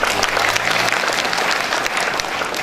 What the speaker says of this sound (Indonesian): Tepuk tangan lagi untuk Anda.